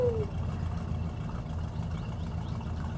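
A car engine idles in the driving game My Summer Car, a low steady rumble running throughout at moderate level with faint chirping tones above it and no speech.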